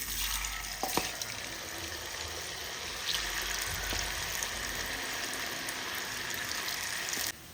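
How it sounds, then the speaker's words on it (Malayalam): Masala-coated cauliflower frying in hot oil, a steady, loud sizzling hiss that fills the whole stretch, with a couple of brief clinks near the start. "അപ്പോൾ നമുക്കിത് എണ്ണ ചൂടാക്കിയതിലേക്ക് ഇട്ട് കൊടുക്കാം."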